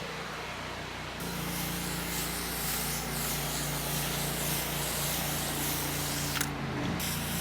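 Steady, loud hissing spray of water hitting concrete, continuous for several seconds with a low engine hum underneath.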